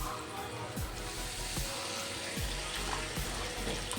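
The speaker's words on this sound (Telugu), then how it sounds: "ఇప్పుడు ఇందులోనే వాటర్ యాడ్ చేస్తున్నాను నేను" Water added to hot frying oil and masala in a pan while cooking paneer, a continuous hissing pour with bubbling, moderately close, no talk.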